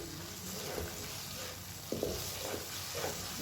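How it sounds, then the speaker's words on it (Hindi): Pumpkin or bottle gourd halwa being stirred and roasted in oil in a pan, a soft continuous sizzle with a few faint spoon scrapes and clinks, fairly quiet, with no voice. "आपने अब इसे तकरीबन 5 मिनट ऐसे भूनते रहना है जब तक आपका हलवा जो है ऑयल ना छोड़ दे"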